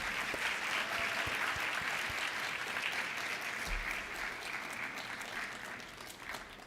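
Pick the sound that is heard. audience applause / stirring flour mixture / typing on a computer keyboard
audience applause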